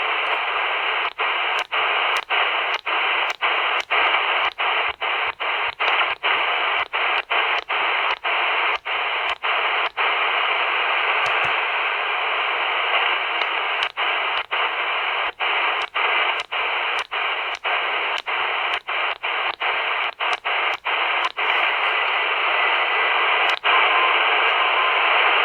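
A C.Crane Skywave SSB shortwave radio hisses with steady static while being slowly tuned across the 40-meter band, with rapid, regular clicks and ticks from the tuning punctuating the hiss for the whole stretch.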